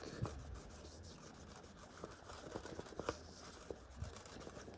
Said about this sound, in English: This sandpaper is not too rough.